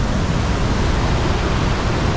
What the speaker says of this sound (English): It's the top of the waterfall.